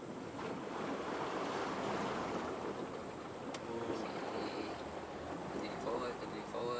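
A Range Rover Velar moves slowly through water on an off-road course, with continuous sloshing and rushing water noise at a steady level, and faint voices in the background.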